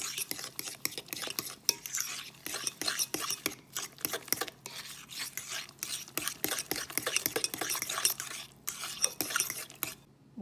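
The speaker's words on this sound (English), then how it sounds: "I'm gonna add 1 cup of sugar. I mix that in there really well." A spoon scrapes and stirs sugar into sweet potato pie filling in a bowl, a steady close clatter of rhythmic strokes with faint background murmur.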